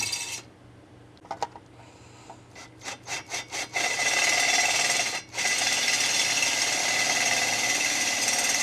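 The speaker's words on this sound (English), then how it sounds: "we're already drilling the hole" A few short grinding bursts give way to a loud, sustained drilling roar, close up, drilling a hole during an air suspension install on a 2024 Nissan Z, with a brief dip partway through.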